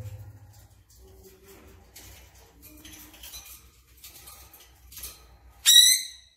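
A grey-headed parrot in a cage gives one sudden, loud, sharp call near the end, preceded by quiet clinks and small rustling sounds.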